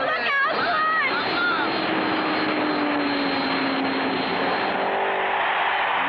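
Cartoon race car engines in a 1959 animated race drone as a steady, loud roar with rising pitch sweeps, while a voice speaks briefly near the start.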